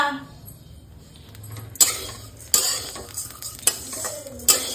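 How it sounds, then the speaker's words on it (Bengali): Rice stir-fried in a pan with a spatula, a soft sizzle underneath sharp metallic scrapes and clinks that come every second or so, close by, with a voice talking faintly at times. "চালটাকে লাল লাল লাল লাল করে ভাজতে হবে"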